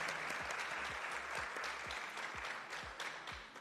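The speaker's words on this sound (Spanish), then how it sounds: "Otro aplauso." A crowd applauds steadily at a book fair ceremony, a dense wash of clapping that continues without a break, heard from a distance with a slight fade near the end.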